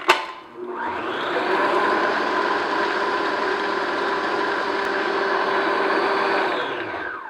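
An electric mixer beats an egg into cake batter for red velvet cake, starting with a clunk before a steady, loud motor whir runs unbroken for several seconds and then stops.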